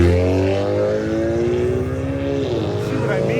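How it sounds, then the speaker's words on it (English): Loud engine roar from passing traffic close by on a road in Penang, Malaysia, a deep droning hum that swells and shifts pitch as vehicles go past. "See what I mean by the loud cars?"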